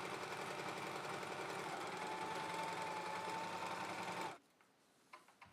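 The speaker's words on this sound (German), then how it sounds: "dann habe ich alles mit rein an die Nähmaschine genommen und habe das alles vernünftig" A sewing machine stitches Velcro and webbing onto a mosquito net, a rapid steady mechanical whirring and clatter that runs loud and close, then stops abruptly, leaving a few faint clicks.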